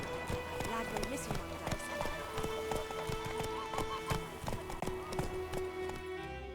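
Horse hooves gallop in The Witcher 3 with a rhythmic, continuous clip-clop close by, under voices speaking and a faint neigh.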